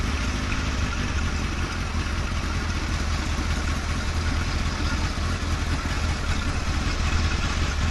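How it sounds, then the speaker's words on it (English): Suzuki Hayabusa Gen 2 motorcycle engine with an MK Indy RR setup, idling as a loud, dense, constant rumble that holds steady throughout, close to the bike. "It's very hard to see, but the vehicle starts up."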